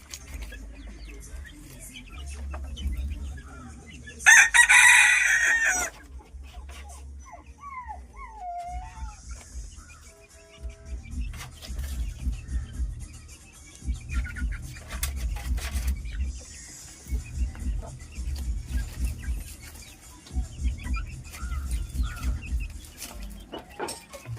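Hens cluck and a rooster crows in a busy yard, with a dog barking and low rumbling background noise throughout.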